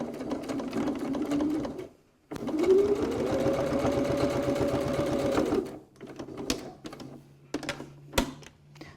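A sewing machine stitching a leather wallet at a 1/4 inch seam allowance, a steady close mechanical whirr of rapid needle strokes that runs for several seconds, pauses, then resumes in shorter bursts with faint clicks.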